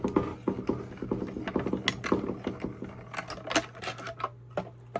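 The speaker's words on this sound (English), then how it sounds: "my stamp and emboss machine, die cut, and my letter, and I'm going to just flip this, cut it through the machine" A stamp and emboss die cut machine cranking paper through: a steady run of close mechanical clicks and ratcheting ticks, fairly loud and rhythmic, with grinding gear-like texture throughout.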